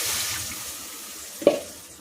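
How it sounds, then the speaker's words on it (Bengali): Water is poured into a pan of kofta curry masala, a soft running splash that builds to a brief sharper burst of liquid hitting the spices near the end. "মশলা কষানো হয়ে গেছে, এবার জল দিই।"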